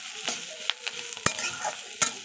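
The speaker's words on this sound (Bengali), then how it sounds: "এইভাবে কিছুক্ষণ নাড়াচাড়া করব।" Onion, chilli and fish roe fry in a pan for a roe bhujia. The mix is stirred with quick scraping and tapping strokes over a continuous close sizzle.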